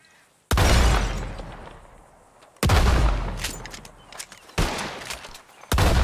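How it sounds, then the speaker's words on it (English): Revolver shots fired at bottles in Red Dead Redemption 2, four loud, sharp blasts spaced about two seconds apart, each followed by a decaying echo and faint glassy debris. "Whoever shoots more of these bottles wins. Just draw your gun and aim when you're ready"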